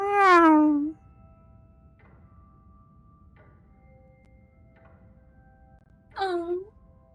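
A cat meows twice in a quiet indoor scene, first a long, loud, drawn-out meow and then a shorter one several seconds later, with faint soft sounds in between.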